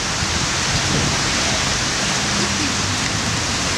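Heavy rain falls as a dense, loud, steady hiss throughout, with faint low rumbling underneath.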